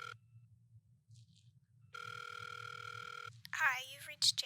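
Outgoing-call ringback tone on a telephone: a steady, loud electronic ring plays for more than a second, with a faint beep before it and a low background hum throughout, then a voice begins speaking at the end.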